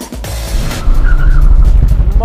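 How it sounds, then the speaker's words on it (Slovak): A Škoda Octavia 1.6 MPI four-cylinder spins its wheels pulling away from a standstill. A loud, close engine roar jumps up suddenly, with tyre squeal under it. "Mohutné prešmikovanie, kolies pod náporom štvorvalca a Peťo ide svojím tempom."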